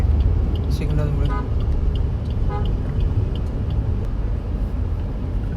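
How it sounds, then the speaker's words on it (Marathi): Road traffic waiting at a signal in Airoli, with a steady engine rumble and several short car horn toots in the first half, heard from within traffic while a person talks throughout. "इकडे थोडं आहे ट्रॅफिक सिग्नलमुळे"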